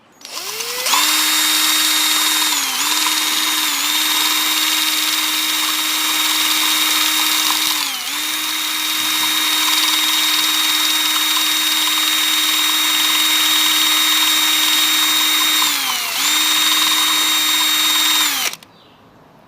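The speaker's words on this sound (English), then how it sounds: "So basically now I'm going to use a drill to mix." A power drill mixing resin whirs steadily for most of the clip, pitch dipping briefly a few times as it strains, then cuts off abruptly.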